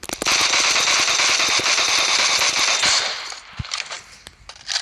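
Rapid tap-firing of a DMR such as the SKS in BGMI/PUBG: a loud, dense burst of quick gunshots runs for about three seconds, then thins into scattered shots and echoes.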